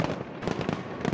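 Fireworks bursting over the London Eye at New Year, a dense run of booms and crackles that rolls on continuously through the short stretch, loud and without any voices.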